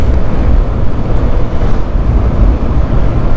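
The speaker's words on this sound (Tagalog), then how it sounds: "Malakas ang hangin, sumasalubong tayo." Loud, continuous wind roar from a strong headwind buffeting a motorcycle microphone while riding, a deep rumbling rush with fluctuating gusts and no voices.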